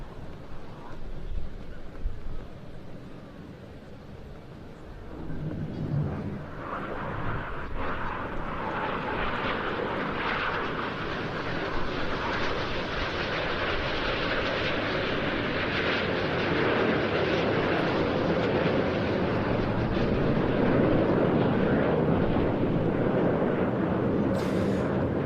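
Red Arrows jets roaring overhead during a double barrel roll display at the Bournemouth Air Festival 2023, a loud sustained engine rumble that builds in intensity, with faint crowd and commentary beneath.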